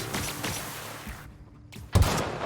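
Gunfire from a weapon in a shooter video game, rapid loud bursts up close, a brief near-silent gap, then a heavy booming shot, no talking.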